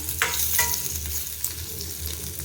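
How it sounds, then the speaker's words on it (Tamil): Onions and brinjal sauté in a hot pan with a steady close sizzle, broken by scraping strokes from stirring. "ஸோ இந்த வெங்காயத்து கூட ஒரு செகண்ட் அது நல்லா வதங்கட்டும்"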